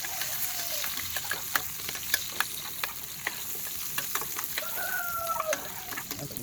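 Garlic and onions sauté in a pan for sweet and sour fish escabeche, a soft continuous sizzle broken by scraping utensil clicks and a faint rooster crowing in the background.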